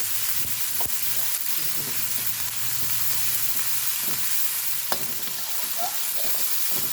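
Pork frying with shallots in a home kitchen pan gives a steady loud sizzle with occasional stirring scrapes and small pops throughout, no talking.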